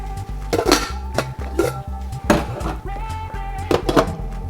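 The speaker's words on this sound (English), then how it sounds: "we're going to put these fully cooked meatballs in the marinara sauce" Fully cooked meatballs are dropped into marinara sauce in a metal pot, giving several distinct clunks and clinks against the pot at irregular intervals over a low steady hum.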